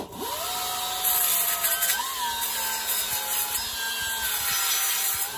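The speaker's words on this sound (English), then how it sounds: "So all I'm gonna do is a file belt sander, and I'm just gonna touch." A file belt sander whines steadily as it touches up aluminum brake parts, a continuous high motor tone with slight pitch shifts and light scraping contact, loud and close, no talking.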